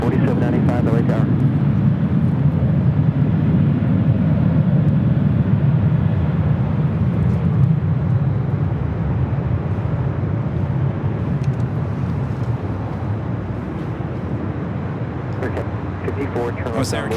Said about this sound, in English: It was Air Canada coming in from Vancouver, flight 554 in that A321.